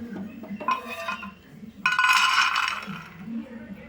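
Freshly roasted peanuts are tipped from the pan into a dish to cool for peanut chutney. They make a bright, rattling clatter that swells into a dense pour, after a few light clinks. Soft background noise runs underneath.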